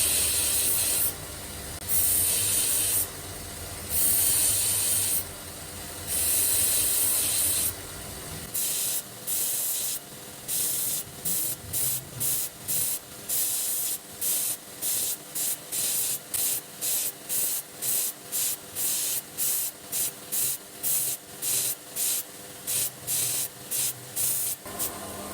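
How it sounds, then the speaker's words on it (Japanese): A belt grinder polishes the spine and choil of a CPM3V all-steel mirror-finish Japanese kitchen knife, giving a steady hiss that turns into a rapid run of short, repeated rubbing passes. "峰と顎を磨いていきます。"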